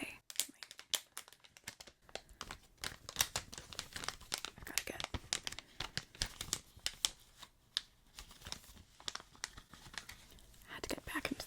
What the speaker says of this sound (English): I had to get back into the loud plastic bag